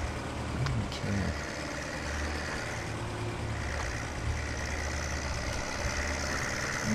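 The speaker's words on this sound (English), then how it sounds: "Gun it and goose it and give it and fling it and do everything you gotta do here, tractor." A tractor engine in Farming Simulator 17 drones steadily for the whole stretch, a continuous low rumble climbing uphill under load with little change in pitch.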